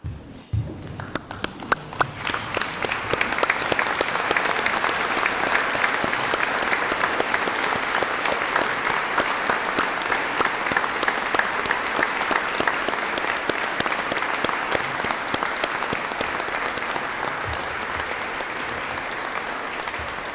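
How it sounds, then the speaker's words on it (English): Sustained audience applause for graduates at a university graduation ceremony in a hall, dense rapid clapping from a large standing crowd that swells quickly and continues evenly for about twenty seconds. "join me in one last round of applause to today's successful graduates"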